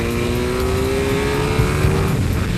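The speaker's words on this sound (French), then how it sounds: "Bonne accélération en seconde." A Team Cottard Motosport racing motorcycle at the Bol d'Or endurance race accelerates hard in second gear, with a loud, close engine whose whine climbs steadily in pitch over a rough roar.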